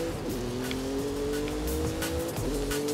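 A Maserati Levante in Forza Horizon 5 drones with a steady engine hum and squealing tires, the revs holding constant and dipping briefly before recovering, loud and close throughout.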